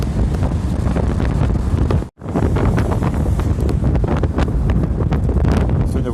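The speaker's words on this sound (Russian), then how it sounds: "Закрой от ветра, очень сильный ветер." Strong seashore wind buffets the microphone in loud, continuous rumbling gusts with a brief drop midway, and strong waves may be blended into the roar.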